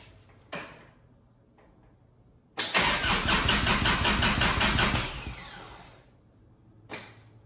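A Kubota L2501 tractor's D1703 diesel engine cranks over with a loud, rhythmic starter churn for about two and a half seconds, then stops, with a few sharp clunks before and after.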